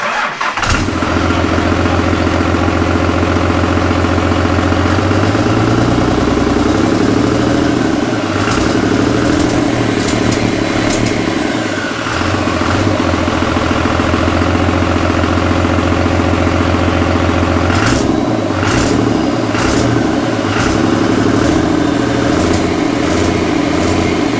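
A Cummins diesel engine fitted in a Jeep YJ starts up for the first time and runs loudly and continuously up close, with a rough idle and occasional throttle changes and clanks.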